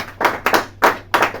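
A church congregation claps to acclaim the Lord in steady, loud rhythmic claps, roughly five bursts in quick succession with no talking.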